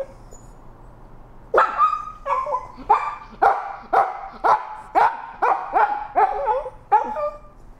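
A small dog barks about ten times in a fairly regular run of sharp, loud, close yaps, starting after a quiet moment with no one speaking.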